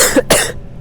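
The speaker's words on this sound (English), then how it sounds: "Stuffed nose, cough." A single short, harsh cough from a person with a cold, close and loud, with a brief throaty catch just before it.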